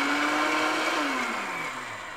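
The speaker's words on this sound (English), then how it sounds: "I'm proud, I'm the first one using this blender" Kitchen blender whirring loud and close as it blends almonds, its high whine holding steady and then falling in pitch as the motor slows down.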